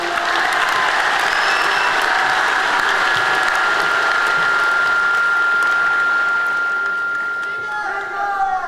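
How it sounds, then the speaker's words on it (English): Loud, sustained applause from a large crowd at a high school graduation ceremony, dense clapping that continues steadily and begins to thin slightly near the end. "a round of applause"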